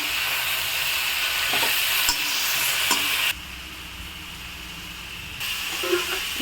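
Onion, tomato, green chilli and garlic stir-fry in a pan for bitter gourd chutney, giving a steady close sizzle and hiss with brief stirring scrapes, which thins out to a quieter simmer partway through.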